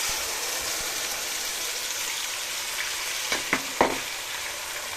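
Onions frying in bleached oil for Ofada stew, a loud continuous sizzle and hiss with a few brief utensil knocks near the end.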